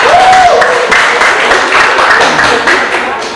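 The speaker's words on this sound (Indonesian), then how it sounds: "Jangan tepuk tangan dulu, ada yang lebih penting." An audience at an Indonesian political talk breaks into dense, loud applause that gradually fades over a few seconds.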